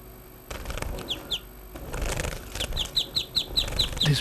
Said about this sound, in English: This bird is called finch.